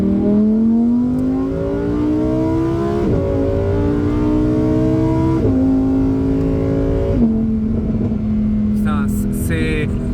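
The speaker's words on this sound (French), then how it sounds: "Putain, c'est tellement bien comme voiture, ça fait un bruit de malade." A Lamborghini Huracán Performante revs hard, its engine note climbing loud and near through several gear changes, each shift cutting the pitch before it rises again, with people talking faintly at the end.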